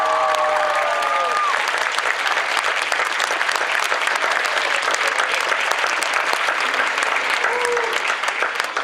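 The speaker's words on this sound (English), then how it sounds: "One more big round of applause for everybody" Loud, sustained applause from the crowd at the Forest City Comicon 2015 cosplay contest in London, Ontario, dense clapping throughout with a few brief whistles and cheers mixed in.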